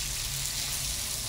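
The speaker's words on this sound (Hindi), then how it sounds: "ये 200 ग्राम चावल है और इसे हमें फ्राई कर देना है।" About 200 grams of rice fry in a pan with a little water for peas pulao, giving a brief, even, dense sizzle.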